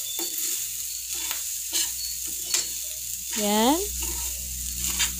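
Yang Chow fried rice stir-fried and tossed in a hot pan, a steady sizzle with scraping spatula strokes under brief talk from a nearby voice.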